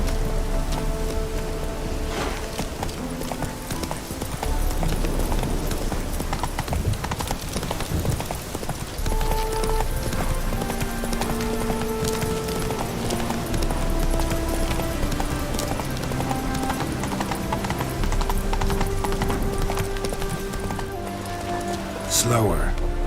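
Roach, the horse in The Witcher 3, moves along with steady clip-clop hoofbeats under rainfall, close and continuous, with music and occasional voices layered over it.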